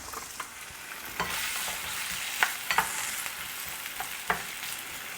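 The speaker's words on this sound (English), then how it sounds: "now that our oil is hot, we're gonna throw our potatoes in there." Potatoes frying in hot oil over medium-high heat, a steady close sizzle with scattered sharp crackles and pops, alone without voices.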